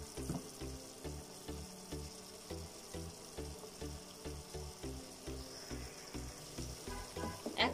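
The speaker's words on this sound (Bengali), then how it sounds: "কিমাগুলোকে আমি ততক্ষণ ভেজে নিব যতক্ষণ পর্যন্ত কিমাগুলোর কালারটা চেঞ্জ হয়ে না আসছে" Minced meat (keema) sizzles steadily in a frying pan, with regular scraping and stirring strokes throughout as the meat browns for keema pasta.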